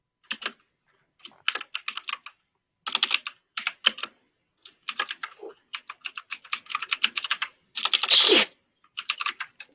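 Fingers type on a computer keyboard in quick irregular bursts of close, crisp clicks separated by short pauses, ending with a heavier run of keystrokes.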